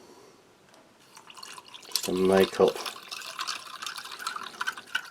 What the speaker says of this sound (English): So I'll just cold water